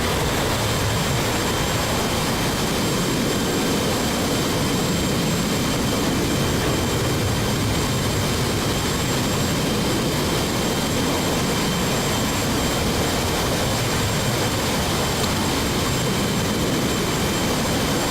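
Two F18 jet engines idle steadily in a video game, a dense, constant roar and whine with no breaks, loud and unchanging throughout.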